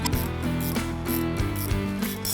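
Quick ratcheting clicks from a wrench loosening stabilizer bracket bolts on a Jeep Gladiator JT 3.0L EcoDiesel steering install, a close, rhythmic run of mechanical ticks in short bursts.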